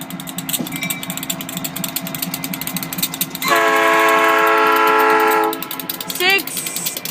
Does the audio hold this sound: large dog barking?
no